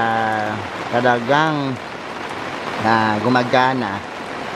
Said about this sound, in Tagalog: grabe yung pagbuhos ng ulan